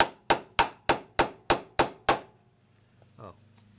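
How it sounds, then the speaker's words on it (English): Eight evenly spaced metallic hammer blows ring out, close and loud, while the strut tower of a BMW E46 is knocked loose during a camber adjustment, followed by quieter clinks. "Oh, there you go, hammered it right out."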